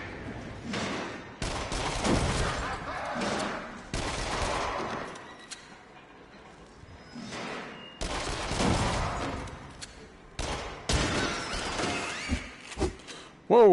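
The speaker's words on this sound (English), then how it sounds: "where am I getting shot from?" Gunfire bursts out in the video game Until Dawn: Rush of Blood, loud clustered volleys of shots broken by short quieter gaps, with an abrupt sharp blast at the end.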